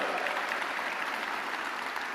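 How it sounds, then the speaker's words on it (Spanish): A church congregation applauds at a Sunday service, steady dense clapping held at an even level throughout with no voices rising above it. "Dele un aplauso al Señor"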